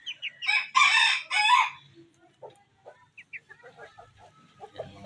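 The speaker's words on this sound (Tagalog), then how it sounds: "Yan, mga bantam chicken natin." Bantam chickens, including silver and golden Sebrights, crowing loudly near the start, then clucking softly in short scattered bursts.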